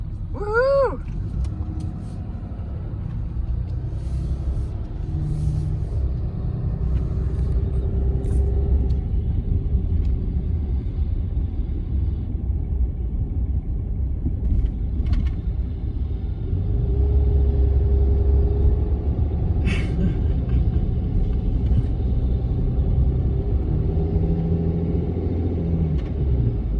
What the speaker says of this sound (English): You're driving a school bus!